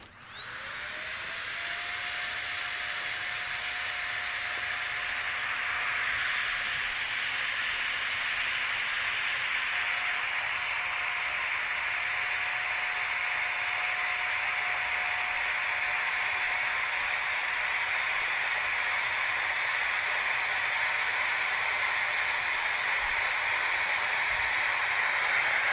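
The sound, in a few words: vacuum pumping air out of a GONGSHI vacuum seal bag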